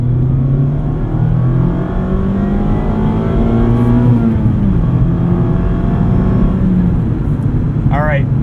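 Mazda MX-5 Miata ND3 RF Club engine running steadily while driving, a continuous mid-pitched drone with slowly shifting revs heard from inside the cabin, ending with a brief whine.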